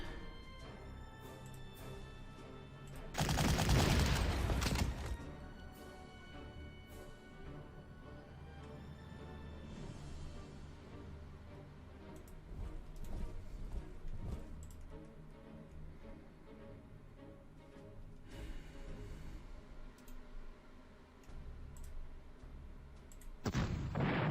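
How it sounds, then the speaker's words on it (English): Artillery shelling in the Panzer Corps strategy video game: a loud booming blast early on, followed by quieter rumbling game sounds and another burst at the very end. "Can shell them at least once."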